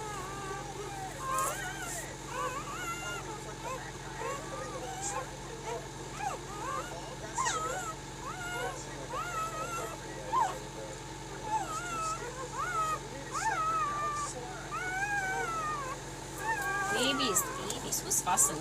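Newborn Anatolian Shepherd puppies whimper, squeak and fuss in a litter, with thin, wavering high cries repeating throughout at close range over a low background hum.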